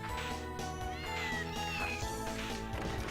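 Repeated cat meows from the video game Castlevania: Order of Ecclesia over a steady music backdrop, synthetic and game-like, continuing throughout at moderate loudness.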